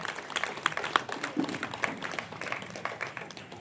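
A crowd at a Basava Jayanti celebration claps together in a sustained burst of applause, dense and fairly distant, with faint voices underneath.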